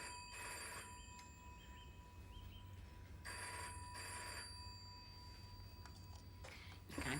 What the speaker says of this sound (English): You can't just let a phone ring on and on.